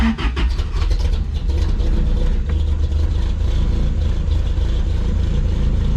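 An off-road vehicle's engine turns over and settles into a loud, steady idle close by, with a rough low rumble throughout and no talking, on a cold 34-degree morning.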